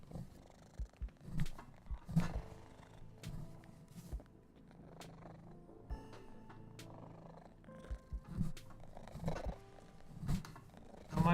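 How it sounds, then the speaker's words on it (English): A cat purrs loudly right against a microphone, a low rumbling drone with soft rubbing bumps and thumps as its face brushes the mic, no voices. "He just likes to rub his face on the mic and then just purr loudly into it."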